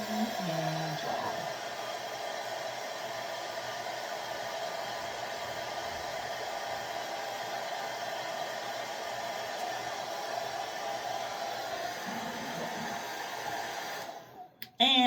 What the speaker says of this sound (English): And I take my dryer and dry.